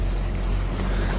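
A sailboat's engine runs at a low 1400 RPM on a passage along Isla Carmen toward Puerto Escondido. It makes a steady, loud, broadband drone mixed with wind and water noise, with no pauses.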